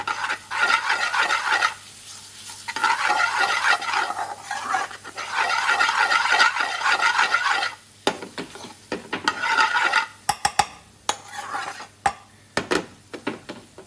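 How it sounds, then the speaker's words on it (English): Ginger and garlic cooking in a pan over medium heat, with bursts of stirring and scraping against the pan over a soft sizzle, then sharp utensil clinks and taps near the end. "This is so 2 teaspoons of ginger and garlic. Let this cook."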